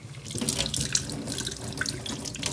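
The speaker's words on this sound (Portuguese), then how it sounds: "a gente tem que lavar as mãos para ficar bem limpinha para fazer o bolo" A faucet runs steadily into a sink while hands are washed with soap, the water splashing and gurgling close by with small drips and shifting flow.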